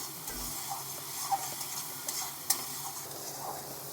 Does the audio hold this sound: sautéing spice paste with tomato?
yes